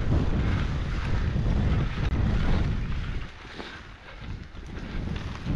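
Strong wind buffets the microphone on Blakey Ridge, a loud continuous low roar that gusts and dips briefly before building again, with no voices.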